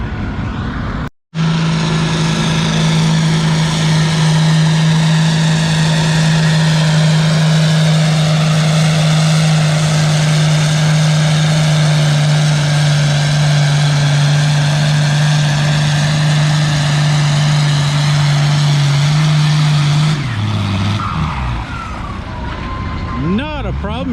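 A 1256 tractor pulls a sled at a vintage tractor pull, its engine held at a loud, steady, droning pitch for about twenty seconds before dropping off as the throttle eases.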